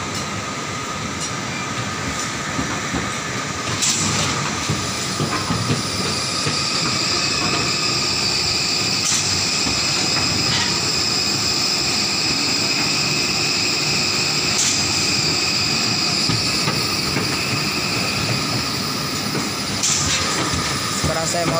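A tower crane hoist motor, on a QD 3023 crane, runs continuously during a brake test, giving a loud, steady mechanical drone with faint periodic clicks and someone talking briefly underneath.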